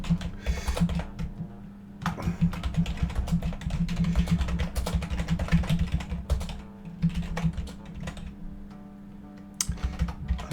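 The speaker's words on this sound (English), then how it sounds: "I'm gonna do some typing." Steady computer keyboard typing runs in bursts of rapid clicks with brief pauses, close and moderately loud, with no talk over it.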